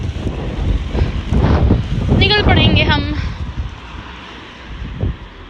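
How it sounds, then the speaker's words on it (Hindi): Strong cold wind buffets the microphone outdoors on a stormy day in Scotland, a steady loud roar under someone speaking briefly, with a short tonal whine partway through. "इतनी ठंडी हवा चल रही है"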